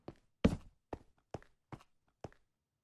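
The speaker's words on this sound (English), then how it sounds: "you could hear footsteps on the stone behind him" Minecraft footsteps on stone from the video game, six crisp separate steps at an irregular walking pace, fairly close and alone with no talk.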